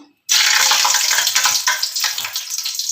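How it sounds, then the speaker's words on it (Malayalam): Whole cloves dropped into hot oil in a pot for ration-rice egg rice give a sudden, loud, steady sizzle that starts after a brief silence and keeps hissing evenly to the end. "ആദ്യം തന്നെ നമുക്ക് നമ്മുടെ ഈ ഗ്രാമ്പു അതിലോട്ട് ഇട്ട് കൊടുക്കാം"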